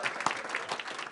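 Applause from a youth symposium audience at a public debate, a brief, even wash of many hands clapping at moderate loudness.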